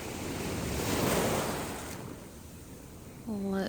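Ocean surf washes onto the sand at Melbourne Beach, a broad rushing roar that swells and eases, with gusts of wind buffeting the microphone.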